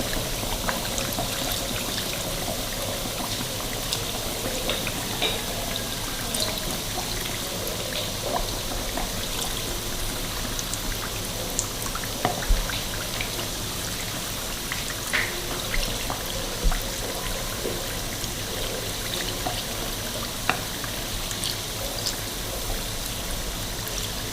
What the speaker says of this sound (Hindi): आपने कचौरी के ऊपर ऑयल डालते जाना है